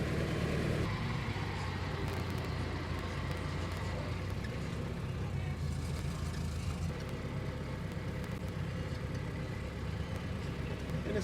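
A 1915 Ford Model T engine runs steadily as the car pulls away in low gear, a continuous mid-pitched rumble that stays fairly even and close throughout.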